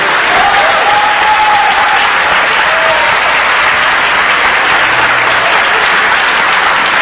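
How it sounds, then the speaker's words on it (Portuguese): A church congregation breaks into strong, sustained applause, dense and even clapping filling the room for several seconds with no talk over it. "glorificai a Cristo Jesus com uma salva bem forte de palmas"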